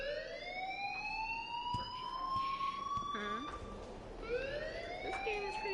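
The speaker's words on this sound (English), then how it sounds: "please turn off that alarm since that's your job" Wailing, rising-and-falling siren-like alarm tone ringing in a PS4 video game, steady and continuous with a second sweep starting near the end.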